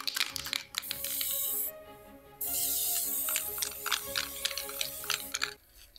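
An aerosol spray can hisses onto a lamp in two steady bursts, mixed with light rattles and clicks and background music.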